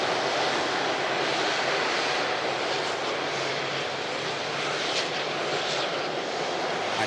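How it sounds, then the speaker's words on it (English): A wide-body airliner arriving at Manchester Airport gives a loud, continuous roar that holds steady from start to finish, with no one speaking. "Nice wide body arriving."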